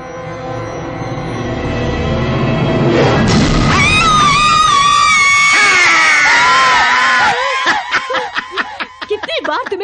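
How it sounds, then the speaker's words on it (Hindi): A woman screams in fright at a skeleton in the Hindi-dubbed film The Tomb (2004). Noise builds first, then a loud, long, high, wavering scream follows and breaks into choppy, gasping or laughing bursts near the end. "तुम्हारी चीख बहुत अच्छी थी"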